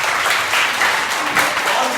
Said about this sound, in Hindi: ताली बजाओ बाबू के लिए